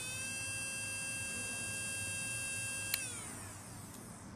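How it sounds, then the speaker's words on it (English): A Belle rechargeable 35000 RPM nail drill spins counterclockwise with a steady high whine, then a click as it stops and winds down, heard close with no talking. "The bit will rotate counterclockwise."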